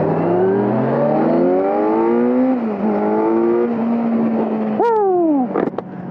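A 2022 Kawasaki Z900 motorcycle accelerates hard in first gear, loud and close. Its engine note climbs steeply in rising sweeps, then drops sharply near the end as the throttle closes, with no talking.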